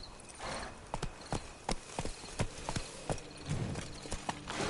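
Hooves of Roach the horse in The Witcher, a sharp irregular clip-clop of several footfalls, close and distinct over a quiet outdoor ambience.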